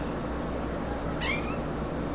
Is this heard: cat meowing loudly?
yes